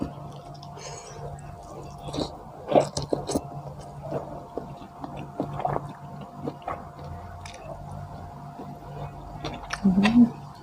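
Someone eats spicy pounded papaya salad with fermented pork, with wet squishy chewing and smacking bursts up close, interrupted by talk.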